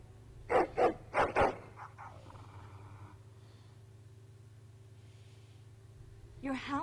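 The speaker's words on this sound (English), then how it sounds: "Your hound is making so much noise." Hound barking in the Dragon Age: Origins video game, four quick loud barks in a burst over a low hum, followed by quieter game ambience and another bark at the end.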